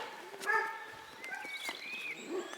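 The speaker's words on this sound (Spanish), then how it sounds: "perros de caza de Rorín" Several dog barks and yelps ring out in short bursts, moderately distant, with a few bird chirps mixed into the background.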